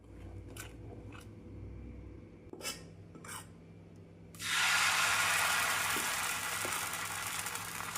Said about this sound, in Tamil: நாம் தோசை சட்டி நன்றாக காயவும் தினை தோசையை ஊற்றிவிடலாம்